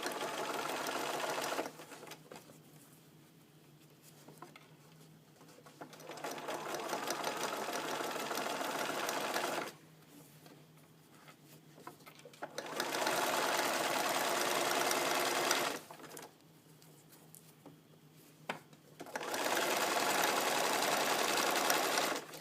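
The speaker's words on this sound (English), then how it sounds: "So you put your presser foot down right next to your cording right here so it's nice and tight in there, and sew that." A sewing machine stitches double welt cording for upholstery in several separate bursts, each a few seconds long with quiet pauses between them. The motor whirs steadily and close up during each run.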